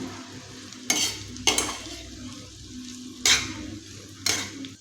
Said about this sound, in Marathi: इथे मी सर्व व्यवस्थित हलवून मिक्स करून घेतलेला आहे